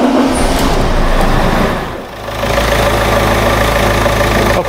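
A diesel engine fitted with Bosch common rail injectors cranks, catches and settles into a loud, steady idle with a low, even rumble close by.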